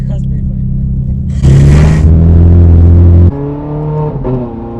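Inside the raw, unsound-deadened cabin of a 2009 Ferrari 430 Scuderia, the engine drones, surges into a loud rev to around 4,000 RPM, then drops back, with a voice talking over the rumble.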